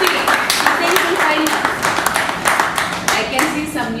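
A small group in a training session claps their hands together, a close, uneven burst of slaps with people talking over it.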